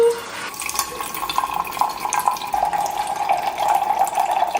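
Hot water streaming from a countertop dispenser set to pour 8 ounces, a steady continuous pour lasting several seconds, close and fairly loud.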